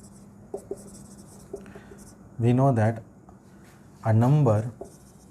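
A teacher writes on a board during a Class 8 maths lesson, with soft scratchy strokes running through the clip and two louder stretches of voice breaking in partway.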